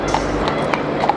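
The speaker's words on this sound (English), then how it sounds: "Here's some horses, look at that." Horses' hooves clip-clop on a London street during a climate strike march, a few irregular hoof strikes over steady street noise and crowd murmur.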